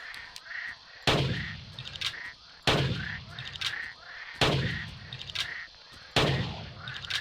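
Four loud, evenly spaced gunshots ring out while hunting an animal in the video game Mandibles, each a sharp close blast followed by a decaying tail, with faint bird-like calls in between.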